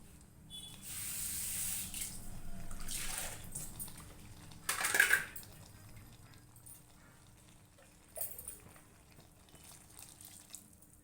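Water from a tap pours into a mixer jar that held ground tomatoes, a soft splashing stream in a quiet kitchen that comes in short bursts.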